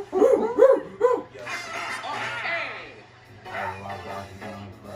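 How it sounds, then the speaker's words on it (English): A dog gives several quick, high barks and yips close by, then whines, with people talking over and between the sounds. "Calm the dog."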